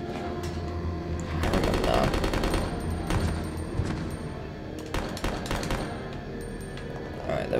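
Rapid automatic gunfire bursts rattle through a Resident Evil Code: Veronica X game scene, clustered volleys with sharp cracks and short gaps, fairly loud over a steady in-game background hum.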